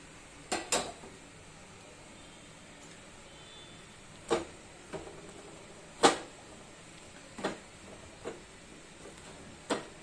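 A spoon scrapes and clacks against a bowl as a thick dough mixture for modak is stirred, in sparse, separate knocks over quiet background.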